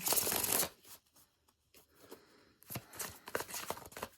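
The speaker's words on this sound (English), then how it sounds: "I'm just giving it a nice, good shuffle." Tarot cards are shuffled in quick riffling bursts, a brisk flurry, a quiet pause, then more rapid shuffling, close and fairly soft.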